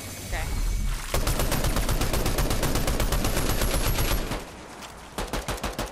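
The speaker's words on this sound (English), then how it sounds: "we're gonna shoot out that side wall" Rapid automatic gunfire in a video game rips through a house wall, a long loud sustained burst of evenly spaced shots followed after a pause by a shorter burst.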